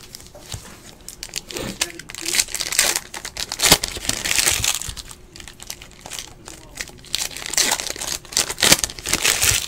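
Packs of 2017-18 Panini NBA Hoops basketball cards are torn open quickly, with loud, close crinkling and ripping of foil wrappers in continuous bursts and no talking.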